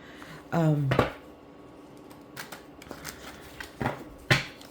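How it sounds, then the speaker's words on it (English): A brief riffle of a flow deck of cards being shuffled, followed by scattered light taps and clicks of cards handled in a quiet room. "I think I'm going to use this flow deck. And you're not jumping out yet. We're going to shuffle."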